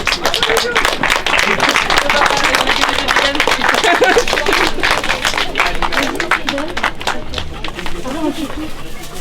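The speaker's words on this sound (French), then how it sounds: "Allez, on applaudit." An audience applauds during a prize-giving at a school-organised cani-cross event outdoors, steady dense clapping from a crowd that runs continuously for several seconds, with voices mixed underneath.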